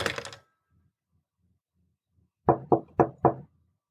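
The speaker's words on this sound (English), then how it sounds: "Someone knocked at the door" Four quick knocks on a door sound up close, sharp and evenly spaced, after a short stretch of near silence that follows a brief moment of voice.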